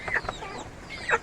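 A few chickens clucking close by at their coop in short bursts, one at the start and another near the end of a brief, quiet stretch.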